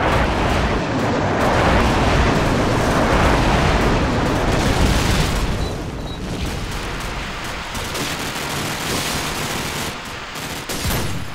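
Heavy barrage of airstrike explosions in the Call of Duty 4 game, a dense rumbling roar of blasts and rapid gunfire that stays loud throughout, easing a little past the midpoint before another burst.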